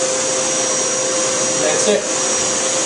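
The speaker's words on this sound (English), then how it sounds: "So we're going to turn the vacuum on." A vacuum cleaner runs continuously at a loud, steady whine while it is used to groom a dog, and a voice speaks briefly over the drone.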